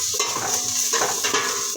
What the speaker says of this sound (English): let's saute the onion, garlic, and ginger until it cooks